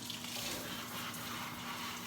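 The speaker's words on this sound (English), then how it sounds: "So what we're gonna do is rinse it with hot water" Hot tap water runs steadily over a Whirlpool dishwasher filter during rinsing, a continuous, even splash and hiss lasting the whole moment with no voices.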